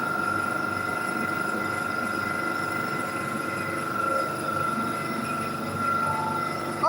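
Aboard a moving train travelling from Rome to Venice, a steady rumble of wheels on rails runs throughout with a faint high whine, heard from inside the carriage at moderate level, with no talk.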